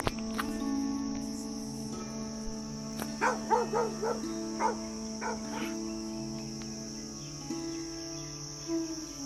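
Occasional dog barks sound from a distance in a quiet town, a short cluster of yelps near the middle over a steady hum of insects or crickets, with one more faint bark later.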